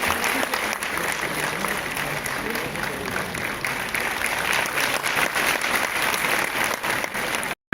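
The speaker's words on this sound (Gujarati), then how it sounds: "આપણે સૌ તાળીઓના નાદથી આ ક્ષણને વધાવીએ" An audience claps steadily and loudly at a civic development ceremony of the Bhavnagar municipal corporation attended by the Chief Minister. The sustained crowd applause runs throughout and stops abruptly at the end, with voices faintly mixed in.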